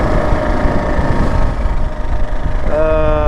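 A Kawasaki KLR motorcycle engine drones steadily while riding, a low rumbling hum with harmonic tones and wind buffeting, rising in pitch near the end as the throttle opens.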